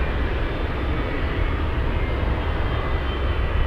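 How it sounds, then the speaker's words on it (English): Jet engines on a Boeing 747 at Anchorage airport whine down in a broad, steady roar, heard loud and continuous from the apron with no talk. "Hear that? Engines are shutting off on the 7-4."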